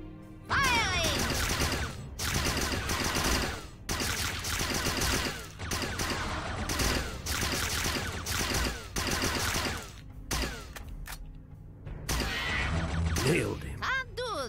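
Rapid bursts of weapon fire from the video game UFO: Afterlight, loud and repeated in volleys with short pauses, mixed with game effects and voices speaking in between.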